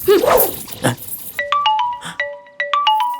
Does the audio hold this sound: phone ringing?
yes